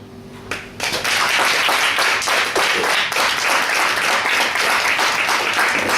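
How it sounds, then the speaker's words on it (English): Audience at a question-time session bursts into applause after a short quiet lead-in, a loud, dense, sustained clapping that continues evenly to the end. "Another round of applause."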